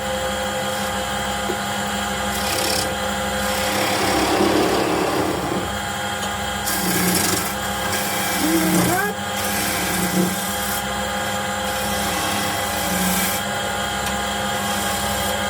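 A skew chisel cuts a piece of wood spinning on a lathe while turning a flower vase, giving a steady scraping, rubbing hiss over the motor's hum, with brief louder bites of the blade.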